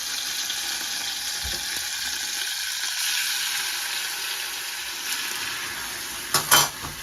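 Butter and milk heating in a hot pan while making oat cookies give a steady, moderately loud sizzle throughout, with a brief clatter of the pan near the end.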